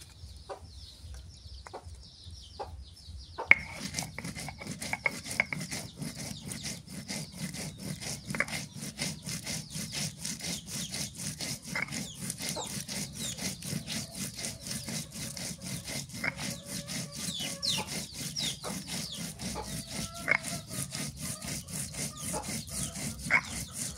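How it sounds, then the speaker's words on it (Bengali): Ginger and cumin are ground together on a grinding stone: a steady, fast rhythmic scraping and rubbing starts after a few quiet seconds and carries on throughout, with faint chicken clucks and a dog in the background. "আদা জিরে একসাথে বেটে নিই।"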